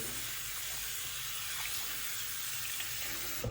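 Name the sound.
water filling a sink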